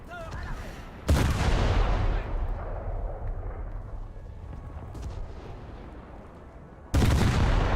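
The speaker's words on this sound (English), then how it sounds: "That is a torpedo detonation" A torpedo detonates in a naval combat game, hitting with two loud, broadband booms that open and close a stretch of rumbling, decaying explosion noise.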